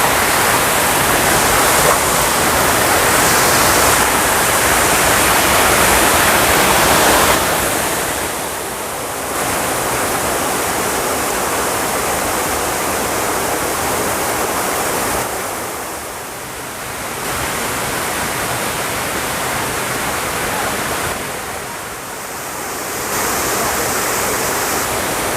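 Curug Paniis waterfall on a hiking trail in Pandeglang roars in a loud, continuous rush of falling water, its intensity dipping briefly a few times but never stopping.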